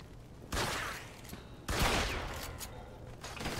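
Two heavy shotgun blasts ring out in a Mafia 2 firefight, each a sharp loud burst about a second apart with a rumbling tail, over a busy combat background.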